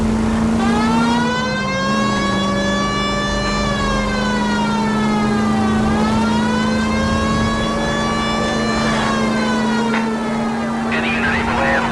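A police car siren wails in L.A. Noire, its pitch rising and falling in long, slow sweeps over a steady engine drone, loud and continuous for the whole stretch.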